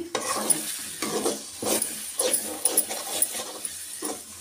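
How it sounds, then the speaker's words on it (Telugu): Tomato bajji fry on a low flame, giving a soft, close sizzle broken by intermittent stirring scrapes and light bubbling, faint and steady. "లో ఫ్లేమ్లో పెట్టి ఫ్రై చేసుకుందాం"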